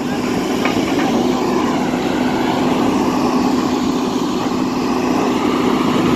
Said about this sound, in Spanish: Sí, amigos, están saliendo unos aviones de guerra.